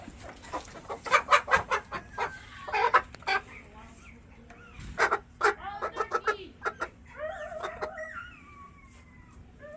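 Chickens cluck and squawk in a lively, irregular series of close, loud calls, with a person speaking intermittently among them and a low steady hum underneath.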